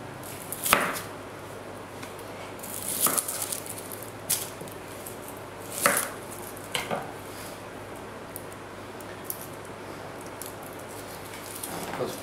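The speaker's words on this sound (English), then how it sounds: "Cut onions." Knife chopping onions in a home kitchen while cooking chili con carne: a handful of sharp, scattered cuts against a board, irregularly spaced, fairly quiet against a soft background hiss, with no talking.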